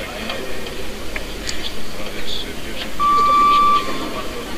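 The 30-second buzzer at the 2013 World Weightlifting Championships sounds as a single steady electronic tone lasting under a second in the background, amid arena crowd noise and commentary.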